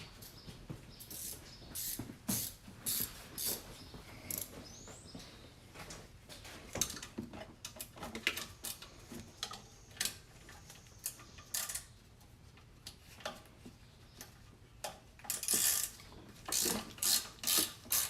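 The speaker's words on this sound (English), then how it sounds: "Grab some wrenches." Wrench ratchet on a 1988 Monte Carlo SS project car, quick bursts of close mechanical clicking with pauses in between, fairly faint, no talking.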